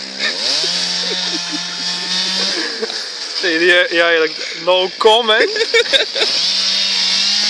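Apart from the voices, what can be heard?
chainsaw cutting wood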